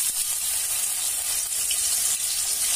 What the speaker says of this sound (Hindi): मैं बॉयल किए हुए बॉयल फलियों को इसमें थोड़ा सा फ्राई कर लेती हूँ।